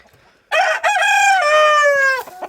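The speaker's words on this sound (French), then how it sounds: "j'ai mon vieux coq azur avec des jeunes poulettes de l'année là" An old Azur rooster on a poultry-breeding farm crows once, loud and near, a long sustained call lasting nearly two seconds, with faint background sounds before and after.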